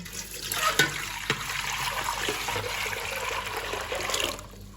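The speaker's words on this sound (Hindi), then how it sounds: "सबसे पहले मैं डालूंगा इसमें पानी।" Water pours steadily into a container for a barley sattu summer drink, a close continuous splashing trickle lasting the whole few seconds with no talk.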